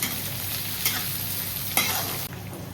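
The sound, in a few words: onions frying on cast iron tawa for masala dosa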